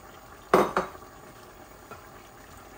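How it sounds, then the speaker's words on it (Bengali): Pieces of chital fish go into a cooking pot of bean-seed and egg curry, with a sharp clatter of metal against metal followed by a quick second knock, close and loud, then a faint sizzle. "এই যে চিতল মাছগুলা দিয়ে দিচ্ছি"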